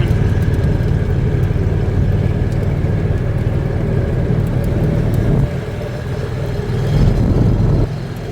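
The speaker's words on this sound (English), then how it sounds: "Car coming." A car passes with a steady road rumble and engine whir that fades after a few seconds, heard from a rolling John Deere Gator utility vehicle fitted with bigger aftermarket tires.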